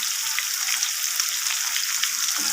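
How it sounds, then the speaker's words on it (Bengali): Potatoes frying in hot oil with salt and turmeric for a hilsa curry, a loud, dense, continuous sizzle close up with scattered crackles and no talking. "আলুর সাথে ভালোভাবে নাড়াচাড়া করে আলুগুলোকে লাল লাল করে আমি ভেজে নেব"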